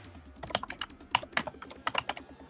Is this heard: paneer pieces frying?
no